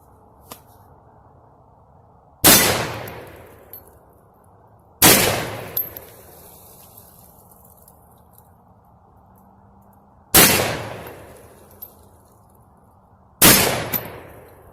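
Four loud rifle shots strike an AR400 steel target at an outdoor range, each a sharp crack with a ringing metallic decay, spaced irregularly a few seconds apart with no talking.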